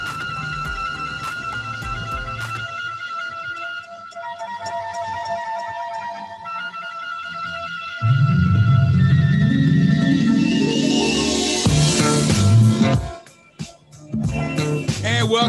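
A song plays steadily, a soft melodic intro with held tones that builds into a fuller, louder band section midway and dips briefly near the end.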